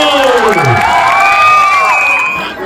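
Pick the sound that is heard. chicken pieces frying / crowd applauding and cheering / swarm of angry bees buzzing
crowd applauding and cheering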